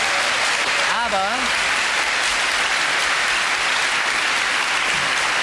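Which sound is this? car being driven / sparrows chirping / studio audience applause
studio audience applause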